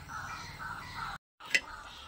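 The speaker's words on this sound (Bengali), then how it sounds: "আর এখানে যে পাখিগুলো ডাকছে," Birds known locally as dak pakhi call outdoors near a rooftop with faint caw-like cries over soft background noise, broken by a short silence and then a single sharper call.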